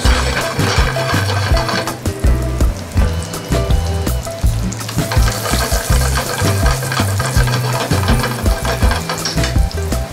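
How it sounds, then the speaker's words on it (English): Chicken with sliced garlic and sauce sizzling hard in a pan over high flame, a loud continuous fry with rhythmic stirring and scraping knocks recurring throughout. "High flame, making sauce."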